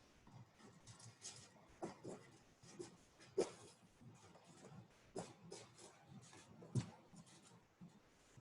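Pen or marker writing on a board during a calculus lecture, a steady series of faint scratchy strokes with a few sharper taps, quiet and close, with no talking.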